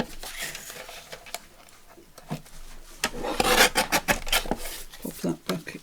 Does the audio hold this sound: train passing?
no